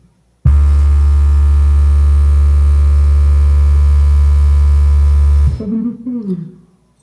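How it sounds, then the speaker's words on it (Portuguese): A steady low sine test tone of 70 to 74 Hz played from a CD through a full-bridge class D amplifier hums loud and unbroken for about five seconds, then cuts off into brief faint handling noise. "Eu vou colocar aqui a frequência de 70 a 74 Hz."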